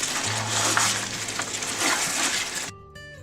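Goat meat with black pepper fries in a pot as it is stirred, a dense, close sizzle with scraping stir sounds that cuts off abruptly near the end.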